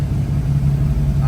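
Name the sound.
car engine idling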